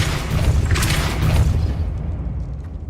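A Depulso spell goes off in Hogwarts Legacy as a deep, rumbling boom with a whooshing burst that swells for about a second and a half, then fades into a low tail.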